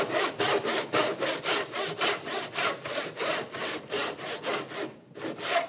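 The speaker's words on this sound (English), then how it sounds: "I'm going to just use a handsaw now to cut down the cheeks." A handsaw cuts the cheeks of a wooden joint for a workbench in quick, even back-and-forth strokes, loud and close, with a brief pause near the end before sawing resumes.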